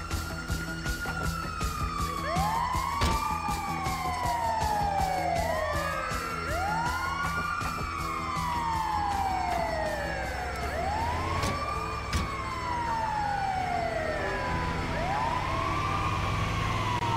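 An ambulance siren in Grand Theft Auto V wails in repeated rising-and-falling sweeps, loud and close, over a low engine rumble and game background sound, with no talking.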